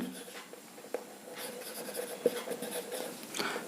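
Marker or chalk strokes writing an equation on a board during a thermodynamics lesson on entropy change of a perfect gas, with soft scratching strokes and a few sharper taps, close and fairly quiet with no talking.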